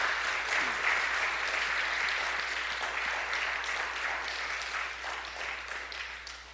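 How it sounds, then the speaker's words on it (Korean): A church congregation breaks into sustained applause for the kitchen volunteers, a dense, fairly loud wash of clapping that holds steady for several seconds before gradually thinning out. "우리 박수 한번 할까요?"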